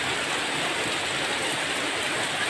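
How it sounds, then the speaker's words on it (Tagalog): Heavy afternoon rain pours down steadily at an outdoor resort in Alamada, a dense continuous hiss of drops hitting surfaces, loud and close with no voices. "malakas po ang ulan"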